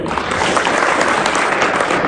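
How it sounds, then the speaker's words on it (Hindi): Steady, dense audience applause at a moral-education talk for young people, loud and continuous throughout without a break. "तालियां होती सबके लिए भाई"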